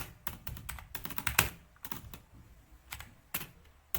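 Code being typed on a computer keyboard in the Spyder Python editor: irregular bursts of close, clicky keystrokes with brief pauses between runs.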